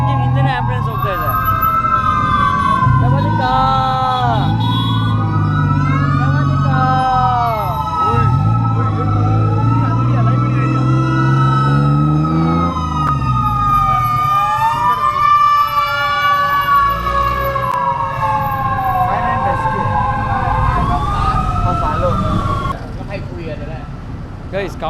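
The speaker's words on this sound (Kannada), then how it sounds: "ಆ ಫೈರ್ ಇಂಜಿನ್ ಹಿಂದೆನೇ ಆ್ಯಂಬುಲೆನ್ಸ್ ಹೋಗ್ತಾ ಇದೆ." A fire engine and an ambulance wail past on a Bangkok street, their sirens sweeping up and down loudly and close over heavy traffic rumble, fading slightly near the end.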